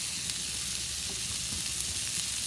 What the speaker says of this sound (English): Again, that beautiful sizzle.